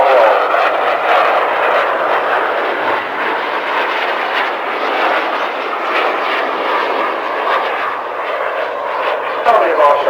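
RAF Red Arrows jets fly a barrel roll at an air festival, a loud steady roaring jet wash that fills the whole stretch, with a commentator talking over it.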